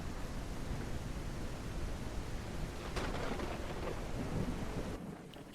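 Steady rain hisses with low thunder rumbling in a video game, a dense, continuous wash of noise that swells slightly midway and cuts off abruptly near the end.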